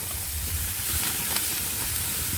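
Food sizzles on a hot grill while cooking for a hot Caesar salad, giving a loud, steady broadband hiss close by that barely varies throughout.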